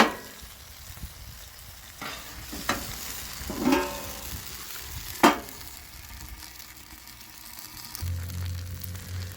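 Onions cooking on a Blackstone flat-top griddle, a steady soft sizzle broken by occasional scrapes and clatters of a spatula, fairly close with no talking.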